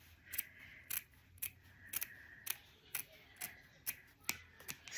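Crisp small-scissor snips cutting linen fabric, about a dozen sharp closely spaced cuts in a steady rhythm, close and clear with no talking.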